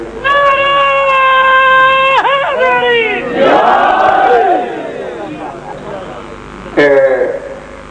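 A crowd at a Shia religious gathering chanting slogans in loud unison, long sustained voiced calls that rise and fall, then a short renewed shout after a pause.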